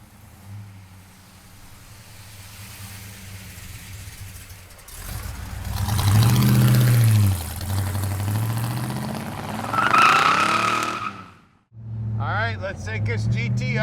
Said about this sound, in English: Let's take this GTO for a ride. I tell you what, she's making power, that's for sure.